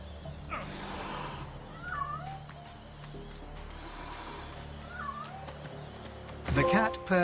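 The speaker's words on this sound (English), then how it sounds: "The cat purrs loudly as it curls itself around your ankles." A cat in the fantasy role-playing game Divinity: Original Sin II, making a couple of short mid-distance meows over a steady game backdrop of ambient music and low hum, followed by a louder burst near the end.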